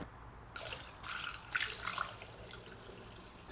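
Coolant trickling and dripping from the open temperature sensor hole of a Sea-Doo engine being filled, a light watery patter with a few louder splashy drips, close and alone.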